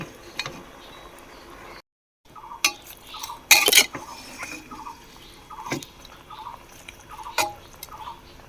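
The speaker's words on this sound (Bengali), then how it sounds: "এগুলো এবার নেড়ে ভালো করে এটা মিশিয়ে নেব।" A spoon stirs mutton with ground spices in a metal pressure cooker, with intermittent close scrapes, clinks and soft wet slaps over a quiet background. One sharp loud metallic clatter comes midway.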